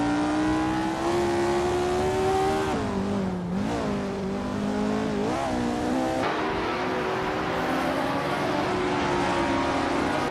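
Several 1960 Formula 1 race cars roar around a track with a tight chicane, their engines howling loud and continuous with rising and falling pitch as they brake and accelerate through the corners, no voices over them.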